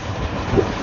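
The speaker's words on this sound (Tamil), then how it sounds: "98ல கிளாக் பண்ணி போயிட்டு இருக்கு இப்போ நம்ம ட்ரெயின்" MEMU suburban train on the Tambaram to Villupuram line rolling along the rails, a steady close rumble with wind-like noise and no voices, brief and continuous throughout.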